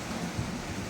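Steady rain falls on a boat out at sea in calm water, a dense even patter and hiss filling the whole second with no voices.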